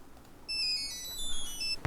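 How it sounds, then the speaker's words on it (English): A phone in a Nancy Drew video game plays a bright electronic ringtone, a short tinkling melody that starts abruptly and runs for over a second at moderate volume, alone. "That's your ringtone"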